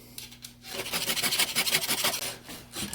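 A hand file sharpens a chainsaw chain clamped in a saw chain vise on a brand new bar, making rhythmic rasping strokes that start quietly and then repeat steadily and close up.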